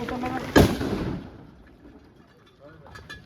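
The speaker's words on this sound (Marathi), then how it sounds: "इथे एक दादानी या छोटी अशी तोफ आणलेली आहे जिथे पेटवत आहेत" A single sharp boom from a small cannon fired at Raigad Fort during a coronation festival, close and loud, fading into a rumbling tail with quiet voices afterward.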